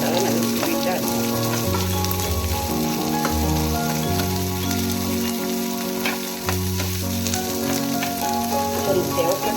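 Large onions sauté in a pan for a white kurma, with a continuous close frying sizzle and light stirring, accompanied by steady tonal background music.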